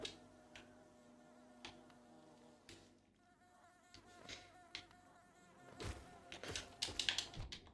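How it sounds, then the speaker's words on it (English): Bees buzz in the Hollow Knight video game, a faint droning hum mixed with game taps and thuds that grows busier and louder toward the end. "That's a lot of bees."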